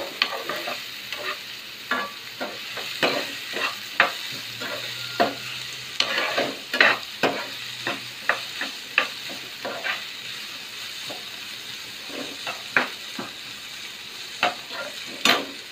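Vegetables for street-style veg fried rice being stir-fried in a pan, with steady frying sizzle broken by frequent sharp scraping strokes of a spatula in an irregular rhythm, close and fairly loud with no talking.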